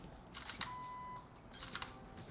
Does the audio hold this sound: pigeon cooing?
no